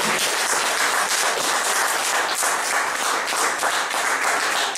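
Church congregation applauding steadily at an evening service to acclaim the Lord, dense and sustained clapping filling the room for several seconds with no voice above it.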